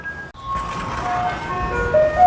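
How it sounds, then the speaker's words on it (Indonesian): A garbage truck passes along a street in Taiwan playing its melodic jingle, tones stepping through a tune over a steady rumble of traffic, moderately loud and drawing nearer toward the end. "Nah, itu mobil sampahnya lewat itu suaranya."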